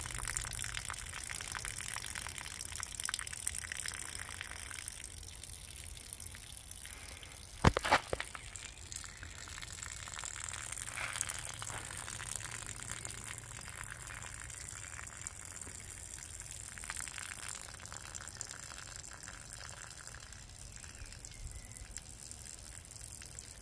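Water flows out of a container in a displacement experiment as it settles toward its equilibrium level, a steady gushing trickle with a sharp knock partway through, running alone with no voices.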